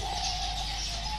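Pigeons newly brought to a bird reserve for release give a faint, steady call over a continuous hiss of background noise, with no voices present.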